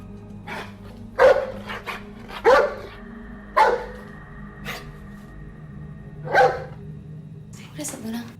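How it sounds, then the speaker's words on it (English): A dog barks several times in separate sharp bursts, fairly close, over a low background hum. "All of a sudden, she started barking."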